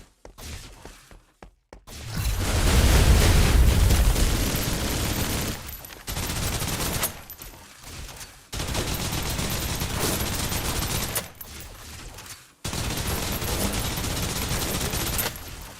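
Submachine gun bursts in the video game Snowbreak, loud sustained automatic fire in several long volleys broken by short pauses, with a faint mechanical lead-in.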